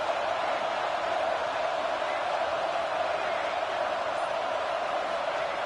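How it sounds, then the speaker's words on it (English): Loud, steady roar of a packed stadium crowd at a Nebraska vs Tennessee football game, a continuous wash of cheering with no single voice standing out. "listen to this crowd noise. This stadium is vibrating."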